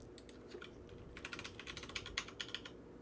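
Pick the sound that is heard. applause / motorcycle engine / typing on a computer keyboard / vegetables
typing on a computer keyboard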